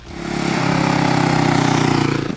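A Brixton twin-cylinder motorcycle engine runs steadily and close up, a loud continuous throbbing drone with an even pulsing rhythm and no voices.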